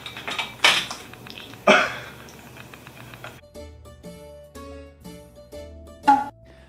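A spatula flips a pancake in a pan, giving a few sharp metallic clinks and scrapes spaced over several seconds, close and alone.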